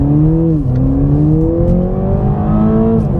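A 2022 Toyota Supra with the 2.0-litre engine accelerates from a stop in first gear, its engine note loud and steady, its pitch climbing smoothly through one brief dip as the car pulls harder.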